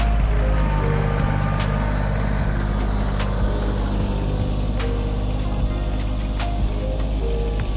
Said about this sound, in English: I'm going to go forward with the bucket kind of scraping the ground to get the tree out